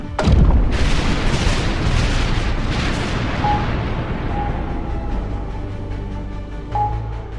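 A cannon fires at a target 500 meters away with a single loud, close boom at the start, followed by a long rumbling decay and roar that lasts several seconds.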